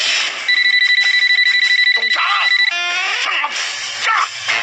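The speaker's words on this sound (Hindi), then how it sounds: "फोन की घंटी बजते ही" A telephone in a small Karol Bagh shop rings loudly in a repeating electronic trill that cuts off partway through, followed by tonal chimes and continuous music-like background sound.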